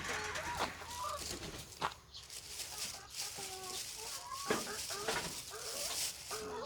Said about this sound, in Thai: นี่ครับ นี่น้องไก่ผม